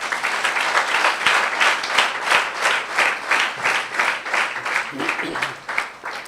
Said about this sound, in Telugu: గట్టిగా చప్పట్లు కొడతారా?